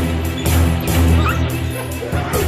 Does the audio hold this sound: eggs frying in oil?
no